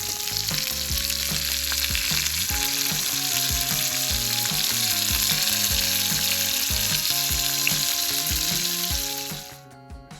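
Sand dab fillets sauté in a hot pan, giving a steady, close sizzle and frying hiss that holds for about nine seconds before dropping away, with music playing over it throughout.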